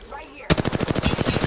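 Rapid automatic gunfire breaks out during a video game shootout, loud and close, a steady stream of quick shots following a quiet moment with faint voices underneath.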